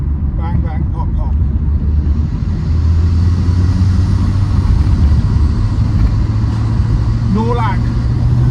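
Turbocharged car running a T34 turbo, pulling hard on boost along an open national speed limit road, a loud sustained engine drone inside the cabin with a few sharp exhaust pops near the start and end.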